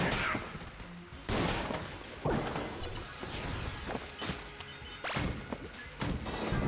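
Devolver gun bullets strike enemies in Enter the Gungeon, a rapid series of loud, punchy impacts and crashes repeating roughly every second over busy game sounds.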